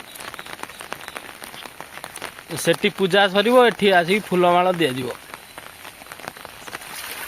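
Heavy rain pours steadily over a village during a Vishwakarma puja gathering, a constant hiss running beneath people talking and a brief sustained tonal voice or horn midway.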